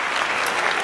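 A brief, dense round of applause from an audience, steady and moderately loud, cut short after under a second.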